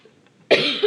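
A lecturer gives a single loud cough after a brief quiet moment in a math class setting, the burst close and harsh with a short rasping tail.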